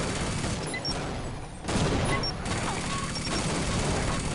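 Gunfire in the multiplayer shooter Team Fortress Classic, a dense continuous clatter of loud shots and impacts running throughout with a brief dip partway through, no talk over it.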